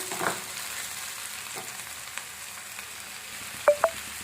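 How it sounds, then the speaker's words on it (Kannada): Ginger, garlic and green chillies frying in a pan, a faint steady sizzle with a couple of soft knocks and two quick sharp clinks of a utensil near the end. "ಇವಾಗ ಇದನ್ನು ಎಲ್ಲನೂ ಸೇರಿ ಫ್ರೈ ಮಾಡ್ಕೋಬೇಕು."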